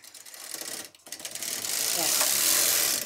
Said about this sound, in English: So now I'm going to knit 20 more rows.